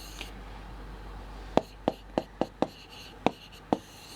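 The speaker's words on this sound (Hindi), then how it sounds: "यहां पर मैं विथड्रॉइंग ग्रुप लिख देती हूं" A pen writes by hand on a board during a chemistry lesson, giving a quiet stretch and then about eight sharp, separate strokes in an uneven rhythm, close and clear, with no talk over them.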